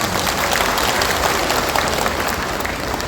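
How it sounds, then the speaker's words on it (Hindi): Enthusiastic audience applause at a Galo community festival gathering in Arunachal Pradesh, a thick, sustained burst of many hands clapping at once, loud and steady throughout. "आप सब एक जोरदार तालियां हो जाए"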